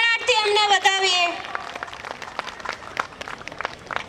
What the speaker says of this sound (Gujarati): જોરદાર તાળીઓના ગણગણાટથી અમને બતાવીએ